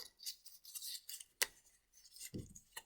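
Traditional origami paper for a harebell folded back on itself, giving soft dry crinkles and rubs with one sharp crisp crease snap, close and fairly quiet, no talking.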